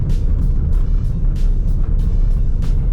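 Citroën C3 Aircross driving over a cobblestone road, a continuous low tyre-and-suspension rumble broken by regular sharp thumps from the stones, heard from inside the car with no talking.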